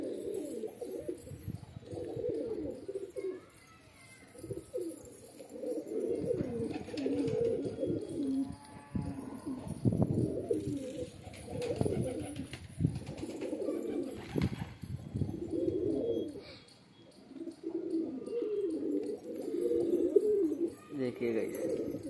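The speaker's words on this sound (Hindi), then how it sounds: "ये कबूतर देखिए गैस।" Pigeons coo in repeated low, throaty bursts, close by and fairly loud, with occasional rustles. Someone speaks Hindi at points alongside the birds.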